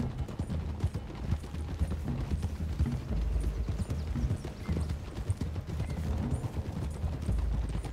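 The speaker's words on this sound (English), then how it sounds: "I quite like that heavy horse, it's quite nice." Horse hooves clip-clop in Red Dead Redemption 2, a heavy horse walking at a steady rhythm on a path, moderately close and even, with no talk over it.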